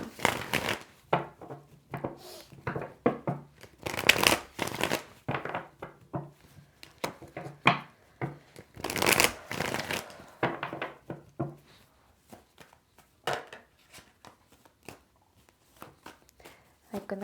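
Tarot cards being shuffled and handled in a reading, with repeated papery riffles and soft slaps of cards on a table, loud and close, interleaved with quiet handling gaps.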